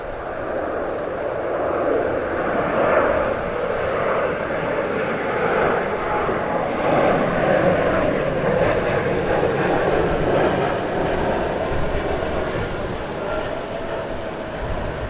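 Busy airport apron at Stansted Airport with queued Ryanair airliners, a steady broad rumble of jet engines sustained throughout, with wind buffeting the microphone.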